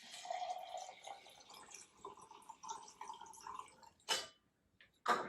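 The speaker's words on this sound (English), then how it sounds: "I'm going to quickly pour this out." Cocktail mixture with leftover banana being poured out, a soft trickling stream of liquid followed by a couple of sharper splashes or knocks near the end, quiet and close.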